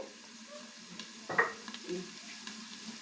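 Panagante leaves frying covered in a pan on a low flame give a faint, soft sizzle, with a brief scrape of stirring and a light clink of utensils partway through.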